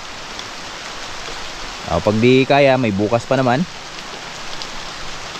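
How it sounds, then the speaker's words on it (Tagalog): Steady rain falling outdoors in a rural farm setting at dusk, a constant broadband hiss throughout, with a voice speaking briefly over it in the middle. "hindi tumila tong ulan na to"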